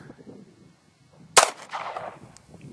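Cobra Derringer pistol firing a .38 Special round outdoors: one sharp, loud crack followed by a short decaying echo, with quiet background before it.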